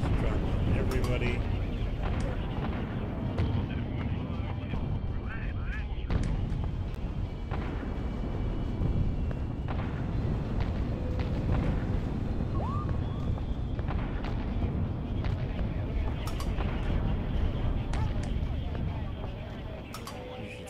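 Explosives dropped on hordes of zombies in the video game Atom Zombie Smasher make dense, continuous rumbling blasts and booms that layer over one another, loud throughout and fading slightly at the end.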